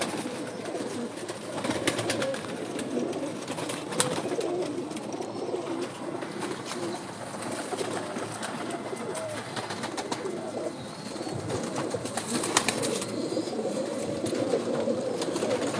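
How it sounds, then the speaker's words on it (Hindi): Pigeons coo steadily from a loft of flying pigeons in moulting season, many birds layered into a dense, continuous murmur with occasional sharper wing flutters, close and fairly even in level. "कबूतर"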